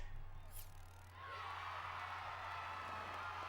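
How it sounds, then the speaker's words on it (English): A crowd in a Harry Potter video game breaks into cheering that swells after a brief lull and holds as a steady, mid-level roar, faintly heard. "This cheering sound was very familiar."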